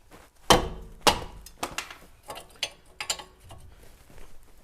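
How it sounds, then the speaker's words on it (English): Sharp composite hammer blows strike a vehicle suspension ball joint to break it free on a Dodge Grand Caravan, two loud impacts followed by several lighter taps and clanks, close up with no talking. "To give it a shot and break it free"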